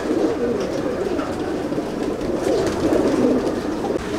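Red-eyed Zeria breed pigeons in a loft coo softly and continuously up close, their low, throaty murmurs overlapping without any talk.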